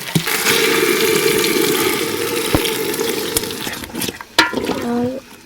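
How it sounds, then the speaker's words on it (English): Wild traditional vegetables frying in oil in a pot, with a loud, steady, close sizzle that thins out near the end as a voice briefly comes in. "I'm just going to go ahead and fry my vegetable with some oil."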